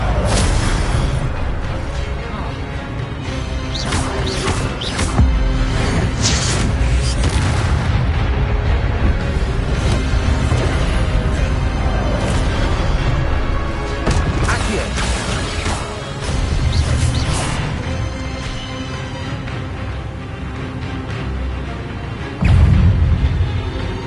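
Spell blasts in the Hogwarts Legacy video game: a dense run of loud booming explosions, crashes and impacts in rapid succession, with a voice shouting spell names over the barrage.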